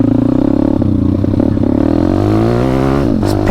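WPB 190 pit bike engine fitted with a new NIBBI carburetor, revving hard and close, a loud throaty drone that climbs steadily in pitch toward the end, with no talking.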